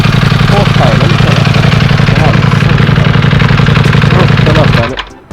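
A 2021 Ducati Panigale V4S with a 215-horsepower engine roars loud and close, a steady high-revving rasp held for several seconds before dropping off sharply at the end.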